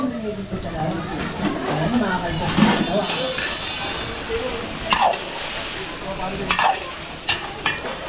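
Garlic and onion sizzle in a hot pan for a home-style caldereta, with steady frying crackle and occasional stirring scrapes and clinks, while a voice talks over the cooking throughout.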